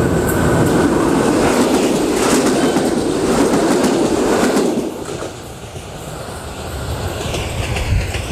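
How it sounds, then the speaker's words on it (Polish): A train crosses a bridge with a loud, close, continuous rumble and rattle of rail cars that holds for about five seconds, then drops away to a quieter fading roll with faint outdoor ambience. "O, pociąg jedzie."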